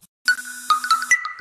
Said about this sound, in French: j'aurais peut-être dû couper la sonnerie